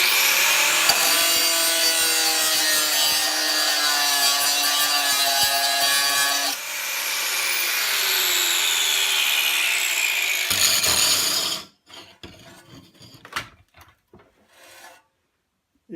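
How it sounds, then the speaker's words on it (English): Hand grinder grinding the rivet head off a snow shovel wear strip: a loud, steady high-pitched metallic whine for about eleven seconds with a brief change partway, then cutting off and leaving scattered quieter scraping and clatter. "you can take a hand grinder and just grind that rivet head off very quickly"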